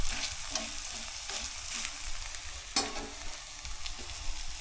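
Pieces of food, pressed down in a pan, sizzle steadily in hot oil, with a constant bright crackle, a few soft scraping knocks and one sharper clatter near the middle; no one speaks.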